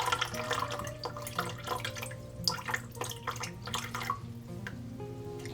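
Water poured from a container into bowls of salt and sugar for a syrup, a steady splashing trickle with small drips, close by, over faint background music and no talking.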